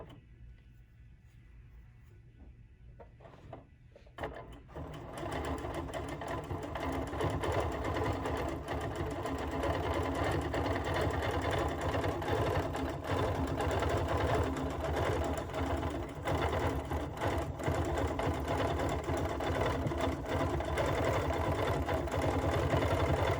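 Sewing machine free-motion stippling a small quilted mug pincushion, starting after a quiet moment and then running in a fast, even, continuous whir with needle ticking, close and steady throughout.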